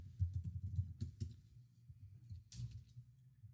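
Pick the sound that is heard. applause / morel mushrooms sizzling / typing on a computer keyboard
typing on a computer keyboard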